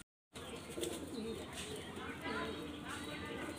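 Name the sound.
pigeons cooing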